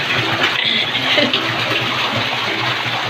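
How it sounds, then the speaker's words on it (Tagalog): Strong, steady gush of water pouring from a roof into a DIY backyard tilapia fishpond, a loud continuous rushing splash that fills the whole moment without talk. "Ang lakas ng tubig."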